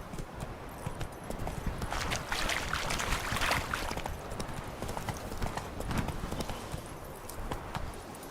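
Roach, Geralt's horse in The Witcher 3, trots with loud, close hooves clopping in a brisk, uneven rhythm over a rushing outdoor ambience.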